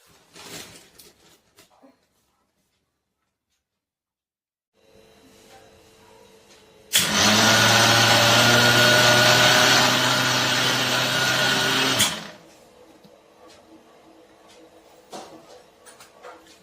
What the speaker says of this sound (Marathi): आपल्याला आता हे मिक्सर मध्ये बारीक करायचं आहे।